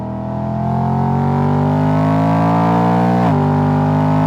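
A BMW E92 M3's V8 engine revs steadily and loudly at the Nürburgring, its pitch climbing smoothly over several seconds with a brief dip near the end as it shifts, close and alone without talk.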